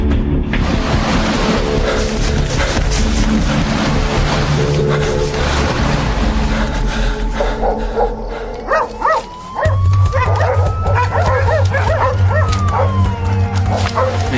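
Police tracking dogs bark repeatedly and loudly while following a trail toward woods near a prison, the yips and barks mixed into a dense, busy background.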